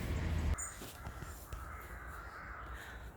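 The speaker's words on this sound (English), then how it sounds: "There's so many crows." Crows cawing repeatedly in an autumn forest, several harsh calls scattered across a few seconds, fairly near and clear over a low outdoor background rumble.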